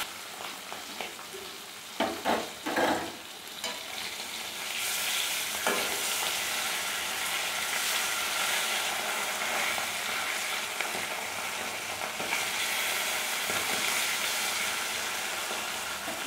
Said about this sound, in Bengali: ইলিশ মাছ বেশি ভাজতে হয় না, ইলিশ মাছ বেশি ভাজলে ইলিশ মাছের স্বাদ থাকে না, খুব হালকা করে ভাজবে।